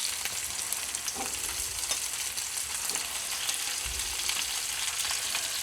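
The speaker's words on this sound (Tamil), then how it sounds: "தக்காளி வதங்கட்டும்." Tomatoes and onions sautéing in sesame oil for a fish curry, a soft, continuous sizzle heard close and alone, with faint scraping and a few light crackles.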